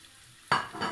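Minced meat balls for a Moroccan tagine land in a hot frying pan, bursting into a sudden loud sizzle after a quiet moment and continuing to crackle steadily.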